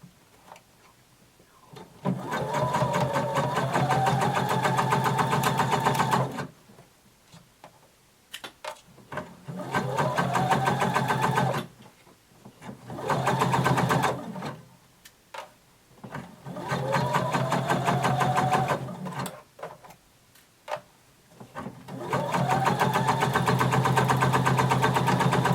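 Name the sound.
sewing machine sewing a bodice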